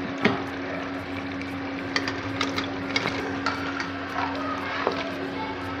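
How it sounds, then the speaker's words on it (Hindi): Mutton fries with spices in ghee in a pot, giving off a steady, low sizzling hiss with occasional light clicks and scrapes of stirring. It is moderately quiet and close, with no talking. "गोश्त को मसाले के साथ अच्छी तरह भून लेंगे 3 से 4 मिनट"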